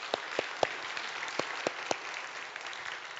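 A church congregation claps during a sermon, the claps faint, sparse and scattered as individual sharp hits against a quiet room.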